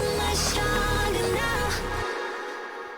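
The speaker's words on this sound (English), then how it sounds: "on the serum effects, I got like this bit crusher" Vocals in a trap track, run through a Serum bit crusher effect, sit over a dense, loud beat with heavy bass and bright gritty upper tones before dropping out near the end.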